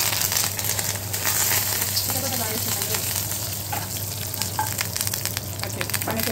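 A South Indian chutney tempering of urad dal, mustard seeds, dried red chillies and curry leaves frying in hot oil, making a loud, dense, continuous sizzle with light popping and stirring throughout.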